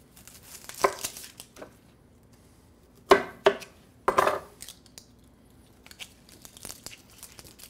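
An onion being cut on a board: a few sharp knife chops and crunches, separated by quiet gaps, with a cluster of louder cuts in the middle and lighter scraping and tapping toward the end.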